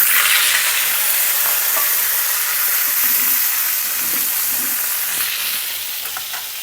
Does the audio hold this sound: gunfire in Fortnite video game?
no